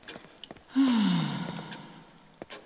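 A woman character in the horror game The Evil Within lets out a single breathy huff, a drawn-out exhale that tails off over about half a second, set among faint game ambience and soft clicks.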